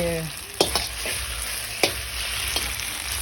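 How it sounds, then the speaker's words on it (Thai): Egg-battered food frying crisp in a pan, a steady close sizzle with a few sharp scrapes and taps of stirring, no talking. "จะทอดให้มันกรอบ อะไรบสุกกรอบชุบไข่"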